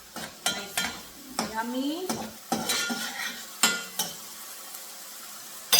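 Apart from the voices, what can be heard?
rice and beans base sizzling in pan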